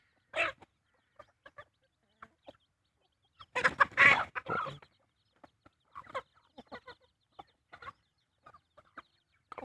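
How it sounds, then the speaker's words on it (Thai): Chickens cluck at evening feeding on a small farm, scattered short clucks near and far in a quiet setting, with a brief louder cluster of calls midway. "ให้อาหารไก่ตอนเย็นครับวันนี้"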